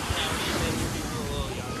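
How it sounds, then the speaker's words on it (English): Ocean surf on a Mexico vacation washes in as a broad, rough roar mixed with gusty wind noise on the microphone. Faint background voices murmur beneath it throughout. "they're going to hear the ocean in the background."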